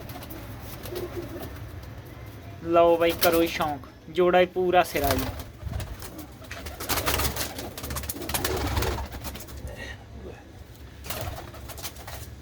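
Pigeons coo repeatedly in a loft of red Chinese and other fancy breeds, the calls rising in bursts under and between a voice talking close by.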